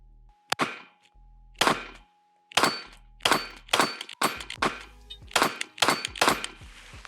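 Taurus TX22 .22LR pistol firing subsonic rounds at steel plates outdoors, about ten sharp cracks each followed by a ringing metallic ding, spaced unevenly and coming quicker toward the end.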